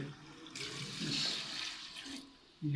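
Water poured into a pot of fried chicken for biryani gives a sustained rushing, splashing pour lasting a couple of seconds, close and moderately loud, with a voice briefly heard before and after it.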